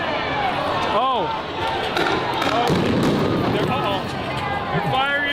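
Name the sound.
police firing rubber bullets into a crowd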